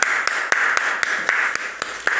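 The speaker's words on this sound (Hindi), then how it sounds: "मैं आज आप लोगों को उसके लिए खुद ताली बजाता हूँ" A single person claps in a steady rhythm, about nine sharp, close claps spaced evenly across a couple of seconds, over a constant background hum in a classroom.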